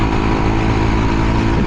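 A Honda Trail 125 motorcycle fitted with an aftermarket big-pipe exhaust rides along narrow, winding Kentucky roads, its engine giving a steady, close, unbroken drone with no voices.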